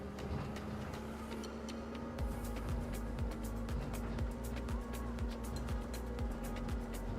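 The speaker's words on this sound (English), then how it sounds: "I'm assuming this is an electric truck just from the sound of it." Electric truck driving in the Farming Simulator 25 game, a steady low hum and whine with repeated rhythmic clicks and thumps as it rolls along, continuous and fairly close.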